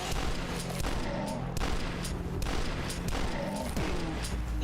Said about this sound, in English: Oh, God, I love the shotguns.